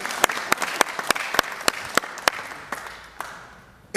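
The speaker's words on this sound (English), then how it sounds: "Yeah, that deserves a round of applause." Applause from a small audience honoring the Florida A&M University Rattlers football coach at a live event: scattered sharp claps over a soft crowd patter that thins and fades toward the end, with no talking.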